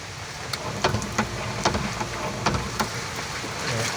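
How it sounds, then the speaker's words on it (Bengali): Heavy rain with gusting wind in Diglipur, Andaman and Nicobar Islands, a steady broadband wash with scattered sharper drop impacts throughout, fairly close and continuous, with no talking. "এত পরিমাণ বৃষ্টি হচ্ছে যে জলও হতে পারে এই যে হাওয়া তুফান"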